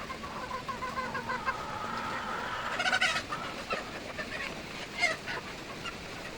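Wet chickens sheltering in a hut during heavy rain give soft clucks and a few sharper calls over a constant hiss of rainfall.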